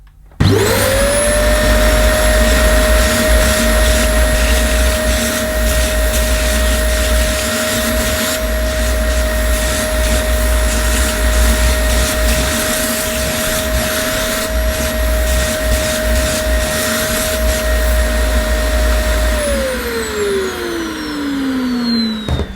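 A Dyson DC25 vacuum cleaner motor whirs loudly and steadily for about twenty seconds while removing dust, with a high whine, then winds down as it switches off.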